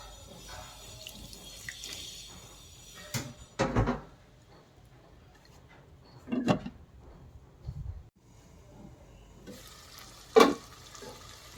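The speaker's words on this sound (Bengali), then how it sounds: "এখন ডিম আর আলু মশলার সাথে আবার ভালোভাবে কিছুক্ষণ কষাবো।" Eggs and potatoes are stir-fried with spices in a pan over a quiet background sizzle. Intermittent scraping and thudding bursts come from the spoon stirring the mixture.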